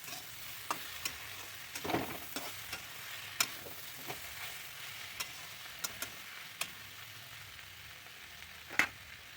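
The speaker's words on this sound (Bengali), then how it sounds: "মাছটা দিয়ে একটু নেড়ে চেড়ে নিলাম।" Spiced small fish and beans stirred in a frying pan: a soft, steady sizzle under sharp scrapes and clicks of the spatula, spaced irregularly and heard up close with no talking.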